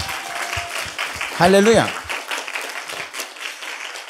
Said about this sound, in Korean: 우리 한번 박수로 영광 올리겠습니다.